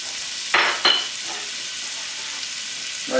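Onions sizzling in about two tablespoons of butter in a pan, a steady frying hiss throughout with a few brief louder stirring scrapes.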